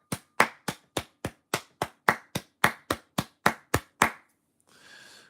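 A single person claps hands fourteen times in a steady, fairly quick rhythm, each clap sharp and close, followed by a short pause and faint background noise.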